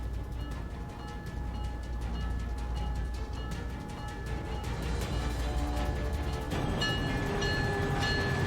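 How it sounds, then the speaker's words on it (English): A train pulling out for the airport in the game Syberia, a steady loud rumble of rolling carriages with a sustained whistle-like tone, rising slightly toward the end, no voices. "The train for the airport is about to depart"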